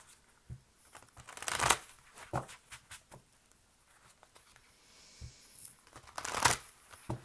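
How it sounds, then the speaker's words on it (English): Stiff tarot cards being shuffled by hand, with bursts of riffling and slapping at irregular intervals, the loudest near the start and end, close by with no talking. "These are not the easiest cards to shuffle."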